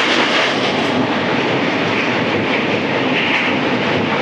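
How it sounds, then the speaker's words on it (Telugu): Goods train running alongside a bridge over the Krishna river, its loud steady rumble and rail noise filling the whole clip without a break, heard close by from a passing express train. "పక్కన గూడ్స్ ట్రైన్ అయితే వెళ్తుంది."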